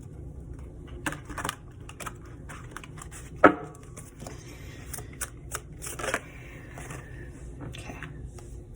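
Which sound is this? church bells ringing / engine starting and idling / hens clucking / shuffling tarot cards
shuffling tarot cards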